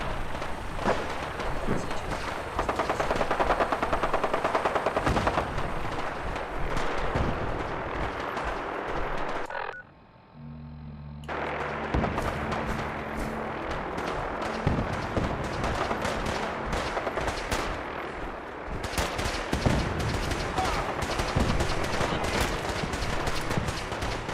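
Loud, sustained gunfire rattles through a Fallout 4 firefight, rapid bursts and heavy blasts layered densely, broken by a short lull near the middle before the shooting resumes just as intensely.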